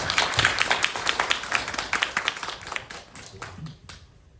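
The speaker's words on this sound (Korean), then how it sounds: "박수 한번 부탁드리겠습니다." Audience applauding after a film screening at the Jeonju film festival, a steady patter of hand claps that thins out and fades near the end, with faint voices underneath.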